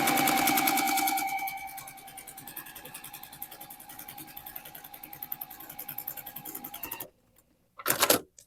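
A sewing machine runs steadily for about seven seconds, stitching a scant quarter-inch seam on hourglass quilt units, then stops; a short burst of stitching follows after a brief pause.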